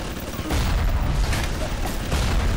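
Rapid automatic turret gunfire in the BioShock video game, set in Fort Frolic, with loud repeated bursts of shots rattling almost continuously.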